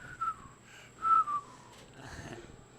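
A person whistling a short, wavering tune in a few separate phrases, clear and close, with no talking over it.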